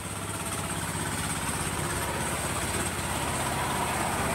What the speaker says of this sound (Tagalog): Makina ng sasakyan.